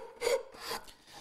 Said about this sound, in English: I'm just adding some nice sharp detail to this scalloped edge with a little half round file